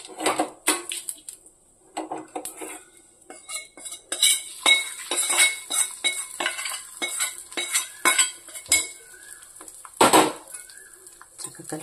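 A spoon stirring tempering into a carrot, tomato and cucumber pachadi in a pot, with repeated metallic scrapes and clinks against the pot in uneven bursts, close and clear, with no talking.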